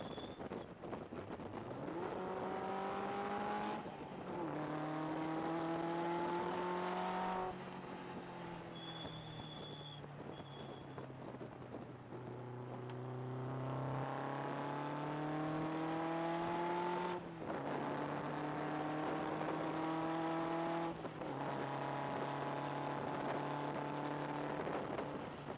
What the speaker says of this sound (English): This car is very powerful and very fast.